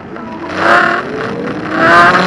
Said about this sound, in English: can't believe that car on the beach.